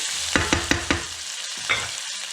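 Sausages frying in a pan, with a run of four quick utensil knocks and scrapes over a steady sizzle, then two more strokes, close and alone.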